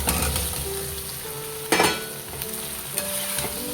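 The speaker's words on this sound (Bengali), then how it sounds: "তো আমি এখন দিয়ে দেব এই আলু ভাজাটা।" Fried potatoes go into a pan of sizzling spice masala. A loud, steady close sizzle is broken by stirring scrapes and a brief burst as the potatoes land.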